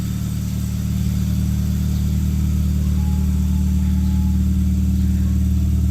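A 1997 Toyota Corolla AE101 GLi TRD with a chambered muffler runs close by, its exhaust holding a steady, deep, throaty drone with a faint rise and no talking.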